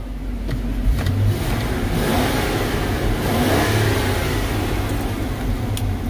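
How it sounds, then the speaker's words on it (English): A 1997 GMC box truck's engine revs up and down several times at close range, a loud, rough mid-pitched roar over a steady rumbling idle. "Motor sounds real good. Let me rev it up for you."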